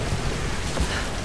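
Steady rain hiss in a Tomb Raider game scene, a dense broadband wash with a faint low rumble swelling near the end, continuous and close.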